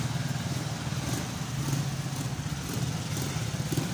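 A motorcycle engine in need of repair runs close by in a steady, unbroken low drone with a slight uneven pulse, holding at one level throughout.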